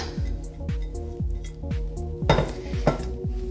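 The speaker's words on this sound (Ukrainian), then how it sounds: "І просто перемішую." A spoon stirs muffin batter mixed with ham and cheese in a bowl, making steady, rhythmic clinks and soft scrapes against the bowl, close and alone without talking.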